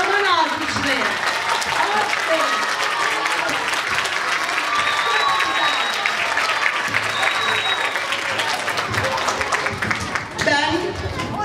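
Sustained, dense applause from a large audience for a children's show fills the space, steady throughout with faint whistles and cheers mixed in.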